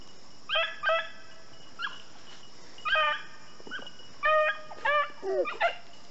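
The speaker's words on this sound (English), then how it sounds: "He's barking a little still." A beagle out rabbit hunting gives a run of high, clear baying barks at moderate distance, several grouped bursts spread over a few seconds above steady outdoor background noise.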